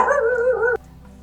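Dogs from a household of four vanlife pets bark and whine in a short, close burst with tonal yelps, then cut off abruptly into quiet.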